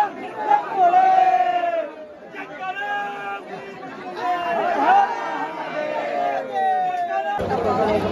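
A dense crowd of pilgrims presses along the road to Neelkanth, with loud overlapping voices, chanting and shouted calls. The babble stays close and continuous throughout.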